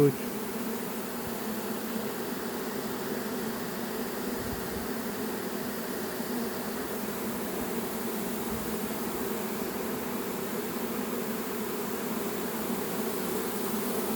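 A honeybee swarm moving into a new nest makes a dense, continuous buzzing hum, steady and moderately faint, heard close by without speech.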